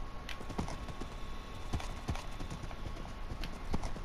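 A horse in the Minecraft video game clops along with steady, evenly spaced hoof steps, moderately faint over a low background hiss.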